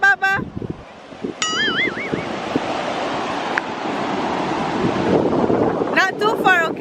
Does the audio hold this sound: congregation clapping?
no